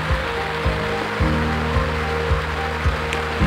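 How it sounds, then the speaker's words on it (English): Rain falling outside, a steady dense hiss, with a low repeating thumping pulse underneath roughly every half second. "We're having rain."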